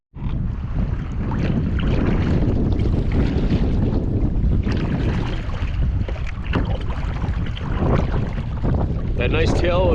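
Heavy wind buffets the microphone during a far-north canoe trip while a paddler works into a headwind, with loud continuous roaring, occasional water splashes and a voice speaking briefly.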